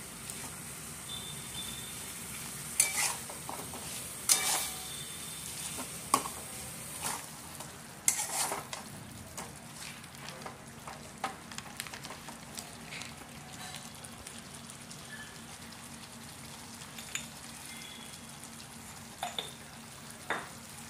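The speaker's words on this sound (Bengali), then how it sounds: "চিকেনটাকে প্রায় 10 থেকে 12 মিনিটের মতো এবার কষে নিতে হবে" Marinated chicken sautéing in spice paste for white chicken korma, a soft steady sizzle with occasional spoon scrapes and knocks, close but fairly quiet and unaccompanied by talk.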